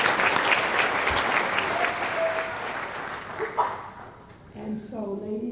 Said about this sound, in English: I would like y'all to give my team a round of applause.